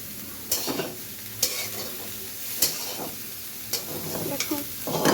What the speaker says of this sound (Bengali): এটা দেখো মাংসটাকে আমরা এখন ভেজে নিচ্ছি।